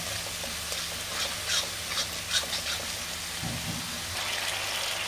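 Curd with onion, garlic and ginger paste sautéing in a pan makes a soft, steady sizzle with faint bursts of crackle and a few gentle stirring scrapes, fairly quiet and without voices.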